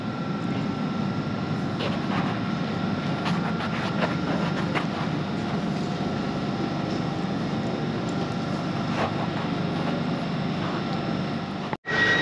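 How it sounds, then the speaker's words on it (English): Another London Underground train on the opposite platform at Whitechapel gives off a continuous heavy rumble with some clicking from the wheels, steady and fairly loud, and it cuts off abruptly near the end. "And you can hear the other train on that platform over there."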